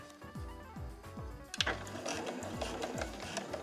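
Sewing machine stitching along the edge of a fabric pouch, first with a few slow separate needle thumps, then a quicker rhythmic run of stitches, close and moderately loud.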